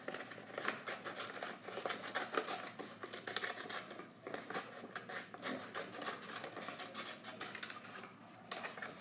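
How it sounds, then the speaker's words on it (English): Scissors snip steadily through paper, cutting out a circle for a safari craft, the close, crisp cuts coming in a quick, uneven rhythm with no talking. "I'm going to go ahead and cut my second circle out"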